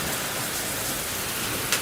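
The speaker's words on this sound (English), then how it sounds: "Hey, it's raining." Rain pours during a big storm, a soft, even hiss of drops on the surface holding steady throughout, with one small knock near the end.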